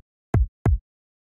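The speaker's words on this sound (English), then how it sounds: "you just want to get a nice, short, punchy kick like this." A short, punchy electronic kick drum sample with little processing, played twice in quick succession alone: two tight, deep thumps with clean, quick decays and silence after.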